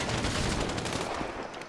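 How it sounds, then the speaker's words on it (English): Sniper gunfire rattles through a Grand Theft Auto 5 firefight, a dense, continuous burst of rapid shots and crackling reports held at a steady loud level with no pauses. "Sniper fire!"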